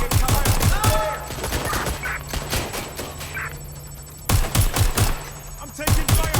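Rapid bursts of automatic gunfire ring out in a Watch Dogs Legion firefight, volleys of sharp shots loud and close with brief lulls between them as the shooting starts and stops.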